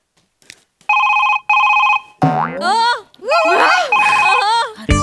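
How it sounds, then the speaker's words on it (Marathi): On a Marathi comedy stage show, a telephone sounds two loud electronic ring bursts up close, followed by sliding, cartoonish tones and voices. "कुणाचा फोन आहे ग कुणाचा फोन आहे बया"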